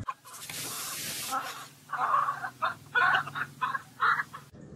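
A rooster crows at night in the Mexican countryside, several clucking calls in short bursts at a moderate distance after an earlier hiss of noise, with no talk.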